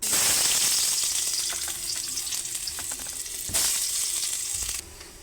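Chopped onion frying with ground mustard paste and chilli, a loud close sizzle that shifts as it is stirred, with a sharp burst partway through and a sudden drop in level at the end.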